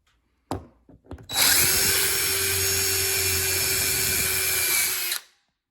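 A power drill bores a larger hole into sheetrock for a wall anchor, a loud, close, steady high whine lasting about four seconds after a few brief clicks and starts, then spinning down.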